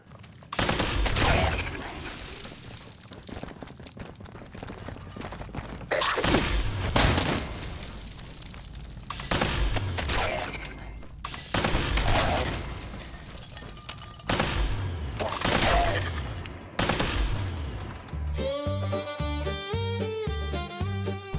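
Tesla rifle firing in a shooter video game, repeated bursts of electric crackling fire and booms in several volleys separated by short pauses, ending with a synth music sting.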